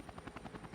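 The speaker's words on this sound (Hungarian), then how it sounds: "Helikopterrel megyünk ki." A helicopter in the Max Payne 3 video game thumps with fast, steady rotor beats, faint and continuous.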